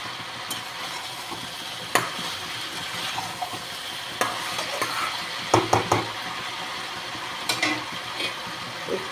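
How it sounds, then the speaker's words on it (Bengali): Vegetables are sautéed and stirred in a pan, with a soft continuous sizzle under the scrape and clack of a utensil against the metal, close by and without speech. "একটু কষিয়ে নিই ভালো করে"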